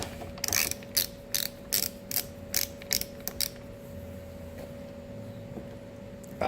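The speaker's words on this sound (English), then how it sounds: "we're going to go ahead and torque these to about 35" A ratchet wrench torques engine bolts during assembly of a 1939 Ford 9N tractor engine, giving a rapid series of close, crisp ratcheting clicks in short bursts over a steady background hum.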